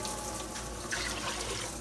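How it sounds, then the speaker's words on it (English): Water pouring steadily from a tap into a pot of black-eyed peas, a continuous rushing splash with no pauses, fairly quiet and heard alone. "I'm adding 12 cups of water to this."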